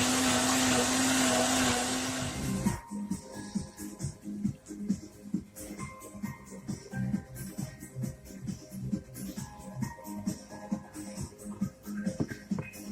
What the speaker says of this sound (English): This is a dang good blender. Making a pina colada, so there's a lot of ice in here right now.